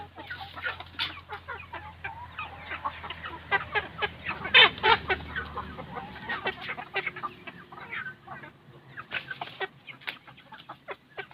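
Laying hens cluck and chatter in a steady scattered stream, several birds close by with short repeated calls and no talking.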